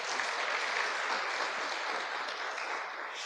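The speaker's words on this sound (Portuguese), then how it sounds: "Um aplauso pela vida da Neuci também." A church congregation applauds steadily during a service, a fairly distant wash of clapping that holds evenly throughout.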